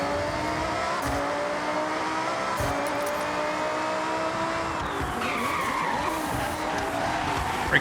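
A race car in Forza Horizon 6 at Mount Panorama, Bathurst, brakes hard with tires skidding and squealing continuously over a revving engine, loud and close, with pitch sweeps as the car slows.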